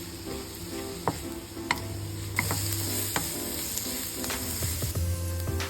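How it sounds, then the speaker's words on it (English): Garlic, onion and chopped mushrooms sauté in hot oil in a pan, giving a continuous sizzle with occasional stirring clinks and scrapes, close and steady throughout. "let's heat oil in a pan and saute garlic and onion"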